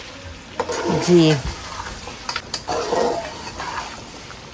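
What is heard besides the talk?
onions frying in a pan for Kabuli pulao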